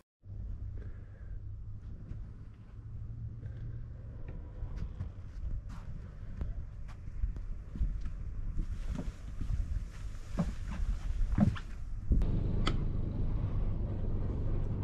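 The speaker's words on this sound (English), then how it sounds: "about to start the engines up and get out of here" Boat engines start up and idle as a vessel prepares to leave a marina at night, a low steady rumble that rises and grows rougher toward the end, mixed with wind noise and occasional knocks.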